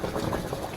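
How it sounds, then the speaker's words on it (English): Boiled pasta shells poured from a pot into a colander in a kitchen sink, a brief close rush of draining water with a bubbling, sloshing texture. "I'm gonna take them to the sink and drain them."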